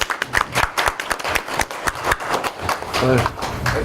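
An audience at an academic conference on progressive politics claps together in dense, steady applause, loud and close, with a voice briefly heard over it near the end.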